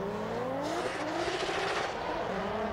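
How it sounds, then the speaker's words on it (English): Engine of a drift car at a British Drift Championship qualifying run revving and shifting up, pitch climbing then dropping, with tyre squeal and crowd noise around it, heard from a distance. "And you can hear it, just that nice big upshift."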